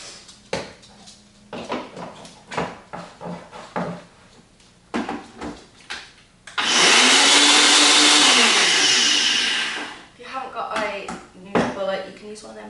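An electric hand mixer whirs loudly for about three seconds through chocolate orange mousse mix, with a voice talking before and after it and kitchen clatter around.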